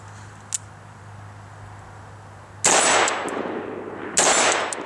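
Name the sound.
AR-15 rifle firing with nickel boron bolt carrier group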